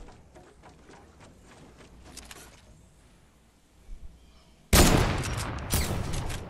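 Rapid gunfire bursts from a minigun in Fortnite, loud and close, arriving suddenly after a quieter stretch of faint, scattered shots and game noise.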